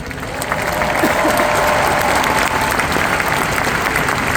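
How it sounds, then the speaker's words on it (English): A large commencement crowd at the University of Maryland breaks into loud, sustained applause, a thick continuous roar of clapping that holds steady throughout. "So let's give all of those connections a round of applause too."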